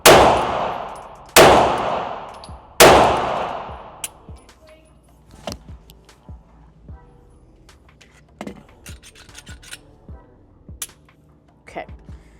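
Three loud gunshots from an MP5 clone ring out in quick succession at close range, each followed by a ringing decay. Faint clinks and light handling noises fill the quieter stretch afterward.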